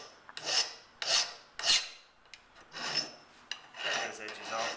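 Hand file scraping sharp edges off a small metal figure held flat in a vise: a handful of close, harsh rasping strokes of uneven length, separated by short pauses.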